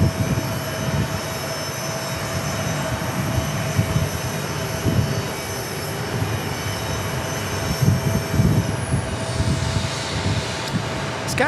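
A jet airliner in SkyTeam special livery rolls past at Phoenix Sky Harbor airport, its engines a steady broad roar with a high whine on top, fairly close and continuous throughout.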